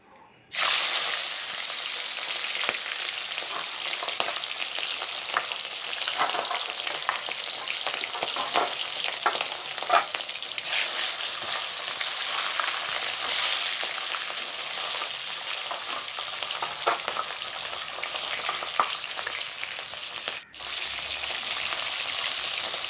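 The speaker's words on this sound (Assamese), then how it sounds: "কেৰাহীত সৰিয়হ তেল দি মাছৰ মূৰখিনি প্ৰথমতে মই ফ্ৰাই কৰি ল'ম" Fish heads fry in mustard oil in a kadai for muri ghonto, a loud, dense, continuous sizzle and crackle that runs almost unbroken, with no talk.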